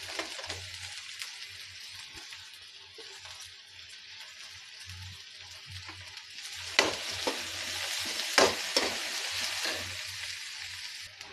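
Capsicum frying in a pan for vegetable fried rice, a steady close sizzle with scraping stirs and a few louder crackling bursts partway through, no talking.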